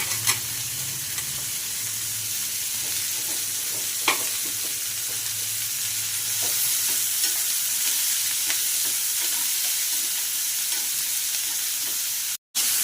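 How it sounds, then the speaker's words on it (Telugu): Capsicum frying in a pan for a curry, a loud continuous sizzle with occasional scraping stirs and clicks, close up, cutting out briefly near the end. "మంచిగా ఇప్పుడు క్యాప్సికమ్ వేసేసుకొని మంచిగా ఫ్రై చేసేసుకోవాలి."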